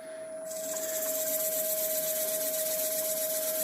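An olive wood platter spins on a wood lathe while 180 grit sandpaper is held against it, a steady close hiss over the motor's constant tone.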